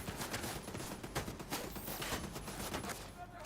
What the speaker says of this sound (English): these turrets are wailing on me